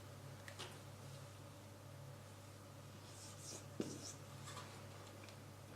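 Faint, soft scratching of a pen or pencil writing on paper during a children's English lesson, in a few short strokes over a steady low hum.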